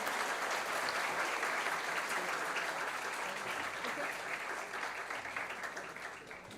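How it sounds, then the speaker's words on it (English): Sustained applause from an audience at a cosmic fest awards event honouring teachers, dense steady clapping that fills the room and tapers slightly toward the end. "we'd like to give you a big round of applause"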